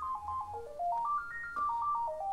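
A telephone rings with a melodic electronic ringtone, a quick sequence of bright beeping notes stepping up and down in pitch, moderately loud and heard on its own without talk.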